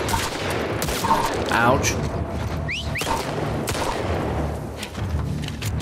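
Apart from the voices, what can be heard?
gunfire in The Last of Us Part II video game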